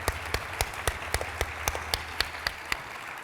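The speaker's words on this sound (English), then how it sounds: "let's give our legislative panel a round of applause." A small group at a legislative panel event claps in a sparse, regular rhythm, about a dozen distinct claps over a few seconds, moderately near and unaccompanied by voices.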